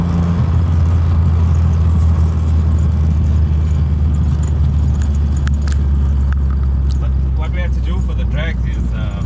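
A VW Golf Mk1 with a 2-litre 16-valve turbo engine drives along with a loud, steady, low engine rumble and road noise throughout, while people talk inside the car.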